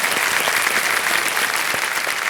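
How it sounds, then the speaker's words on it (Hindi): Studio audience on a Hindi TV quiz show (Kaun Banega Crorepati) bursts into loud, dense applause, a steady wash of many hands clapping throughout without pause. "तालियां मच जाए इनके लिए।"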